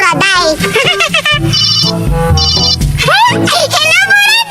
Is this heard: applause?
no